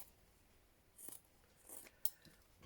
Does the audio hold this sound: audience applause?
no